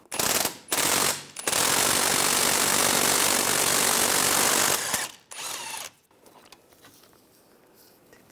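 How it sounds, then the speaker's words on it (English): Ratchet or power tool turning a 19 mm socket to remove the four rear hub bolts on a 2003-2008 Infiniti FX35, heard as loud, close, continuous mechanical bursts: two short ones, then a long run of about three and a half seconds. "On the back side, there's four bolts. You want to take those off. Use a 19 millimeter socket."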